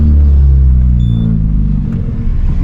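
A Peugeot 206 engine rumbles loud and close with a deep, steady drone, then briefly stumbles with an uneven sputter partway through before smoothing out again.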